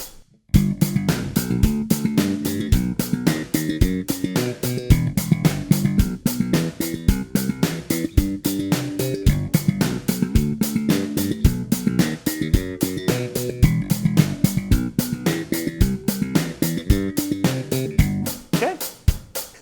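A slap bass riff plays over a full backing practice track, with rapid percussive slapped and popped notes in a tight, driving rhythm, loud and continuous until it stops near the end.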